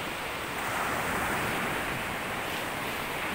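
Sea waves wash steadily onto a sandy beach at sunset, a constant broad roar of surf with some wind rush and no voices.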